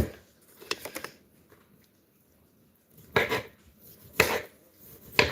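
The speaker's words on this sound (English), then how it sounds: "You gotta cube it up a little bit first." A knife cuts raw chicken breast into cubes on a board, a few clustered taps and thuds with quiet pauses between, close and alone with no talking.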